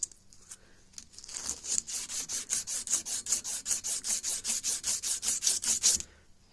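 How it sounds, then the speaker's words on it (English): A rifle barrel is hand sanded before cold bluing, with quick, rhythmic back-and-forth rasping strokes of sandpaper on metal, about twenty close, even passes that build in pace and loudness before stopping abruptly. "you may find yourself doing a lot of small hand sanding"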